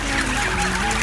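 A brief burst of loud, close honking from a group of geese, overlapping calls with no talking.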